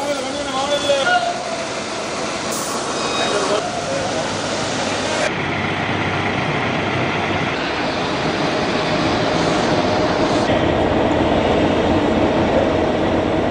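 A long-distance intercity train running along the railway, a loud, steady rumble and rattle of carriages close by, with faint clickety-clack and a shift in tone partway through; no speech.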